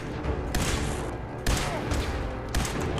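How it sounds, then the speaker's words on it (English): Laser rifle fire in Fallout 4's Far Harbor, three loud broadband blasts spaced about a second apart over a dense, noisy game soundscape. "I'm not sure that using a laser rifle is going to be the best weapon."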